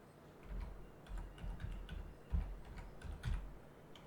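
Typing on a computer keyboard at a PC, a quick run of close, soft key clicks with uneven rhythm and a few louder taps, no speech.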